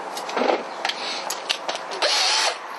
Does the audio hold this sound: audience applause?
no